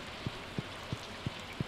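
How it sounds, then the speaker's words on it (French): Rain falling in the farming video game Stardew Valley, heard as a steady soft patter with a faint muffled thump recurring about every third of a second, quiet and even, with no voices. "Ah, je crois entendre la pluie."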